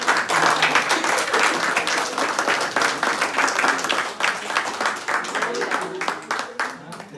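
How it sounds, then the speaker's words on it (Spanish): An audience at a panel discussion claps steadily for several seconds, a dense patter of individual hand claps with some voices murmuring underneath, holding fairly level throughout. "Un aplauso, por favor."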